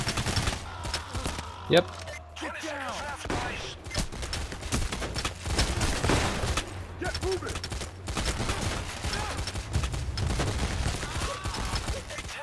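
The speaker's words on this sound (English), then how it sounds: "Holy crap, I'm getting shot a lot." Heavy gunfire rattles almost continuously in a Payday: The Heist heist shootout, with rapid bursts and overlapping shots at close range, while a player talks briefly over the racket.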